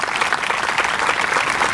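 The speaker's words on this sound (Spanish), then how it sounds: "Les doy un aplauso por acompañarnos." Steady, dense applause from a crowd, continuous and fairly loud throughout.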